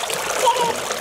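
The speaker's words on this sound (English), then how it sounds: "Are you putting rocks in the water?" Rocks dropped into water by a child, a short splashing and trickling burst, moderately loud and close, with a brief high tone mixed in.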